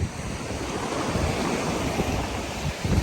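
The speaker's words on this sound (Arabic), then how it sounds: "البحر ما اليوم بعدا فيه شويه المواج" Sea waves roll and break continuously on a cold, windy day at the shore, a steady close wash of surf mixed with gusting wind buffeting the microphone, with no voices.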